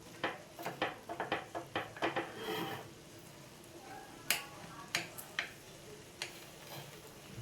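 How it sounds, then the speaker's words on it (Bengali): A knife cuts through an aubergine omelette in a pan, making a series of sharp, close clicks and taps against the pan, quick and rhythmic at first, then sparser. "ছুরির সাহায্যে আমি ধীরে ধীরে কেটে নেবো"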